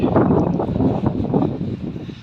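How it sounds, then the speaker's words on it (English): Steady wind in Saltwell Park, Gateshead buffets the microphone in a low, continuous rumble, fluctuating slightly but never dropping away, with no voices. "It's a bit windy today,"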